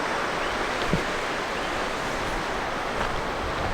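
Waves washing onto a beach at Granite Island, a steady broadband wash of surf with a little wind noise and no talk.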